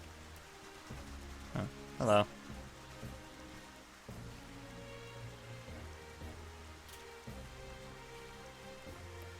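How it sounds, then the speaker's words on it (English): Steady rain falling in the video game Xenoblade Chronicles, a constant soft wash of drops running through the whole stretch, with a brief spoken greeting and faint background music over it. "Oh joy, it's raining."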